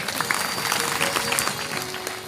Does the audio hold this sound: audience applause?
yes